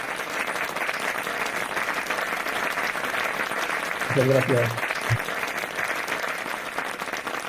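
A seated audience applauds a welcomed guest at a talk, sustained even clapping throughout while someone briefly speaks a thank-you partway through.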